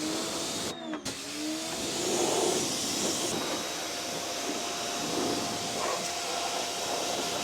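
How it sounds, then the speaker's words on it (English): Pressure washer spraying the engine bay of a BMW E30, a steady broadband hiss running almost without a break through the clip, with one brief interruption near the start. "All right, round one of pressure washing done."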